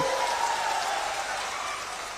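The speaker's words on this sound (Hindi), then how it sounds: "जोर से ताली बजाओ अनिरुद्ध जी के लिए" A crowd at a BJP election rally in Supaul, Bihar, claps for Anirudh Yadav of Nirmali: steady, dense applause that sounds like a patter of rain, loud and continuous, easing slightly toward the end.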